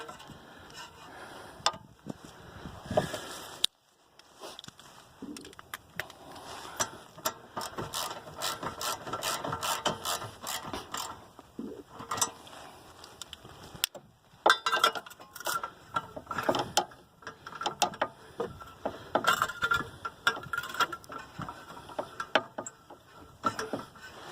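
A hand ratchet clicks in rapid bursts as it tightens rear brake bolts on a 1991 Honda Accord, close and steady with brief pauses, and no talking.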